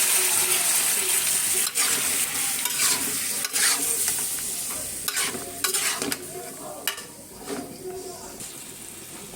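Potatoes and flat beans sizzling in a pan with fried onion, stirred briskly so the spoon scrapes and clatters over loud crackling, close up, easing toward a softer simmer-like hiss by the end.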